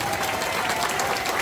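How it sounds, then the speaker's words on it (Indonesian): Dense, steady applause from a congregation at an evening church revival crusade, filling the space evenly without a break and loud throughout, with a faint sustained tone running underneath. "beri tepuk tangan yang meriah"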